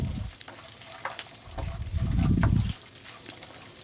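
Ingredients frying in oil for raw mango pulihora, a soft continuous sizzle with light stirring taps and a brief louder low surge midway, heard close with no voices.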